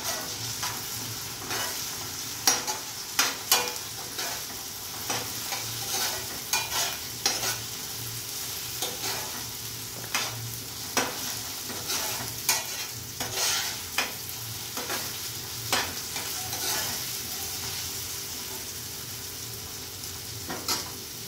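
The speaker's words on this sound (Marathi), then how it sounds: "आता टोमॅटो आपण 2 मिनिटं परतून घेतलेलं आहे" Chopped tomato sautés with onions in a pan, giving a steady sizzle broken by regular scraping and stirring strokes from a spatula, close and fairly quiet throughout.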